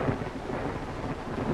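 Steady rain with low rolling thunder fills the night outside an old dark house, a continuous broad rumble and hiss with no voices over it.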